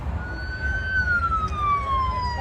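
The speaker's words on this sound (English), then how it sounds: "there is a special caravan coming through. Police car, the car and 2 limos." Police car siren from a passing motorcade of a police car, another car and two limos at the Coca-Cola 600 race, a steady sliding wail over low traffic rumble, fairly loud and drawn out.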